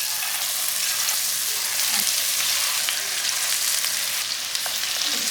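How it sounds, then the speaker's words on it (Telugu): Chicken pieces deep frying in hot oil for a Hyderabad-style Chicken Majestic, a steady, dense sizzle and crackle running without a break and fairly close, with no voices over it. "ఇప్పుడు మనం చికెన్ పీసెస్ని నూనెలో గోలించుకుందాం."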